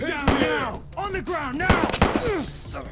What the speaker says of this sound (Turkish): Kafasına sıktın adamın